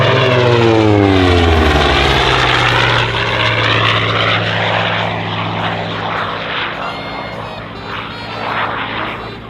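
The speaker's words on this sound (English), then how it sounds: "18-cylinder air-cooled radial piston engine." A Hawker Sea Fury with its 18-cylinder air-cooled Centaurus radial piston engine roars loudly overhead at an airshow, the deep propeller drone sweeping in pitch as it passes, then fading slightly.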